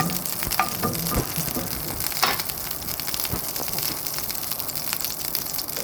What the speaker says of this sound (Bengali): ঘি দেওয়ার পর একটু নাড়াচাড়া করব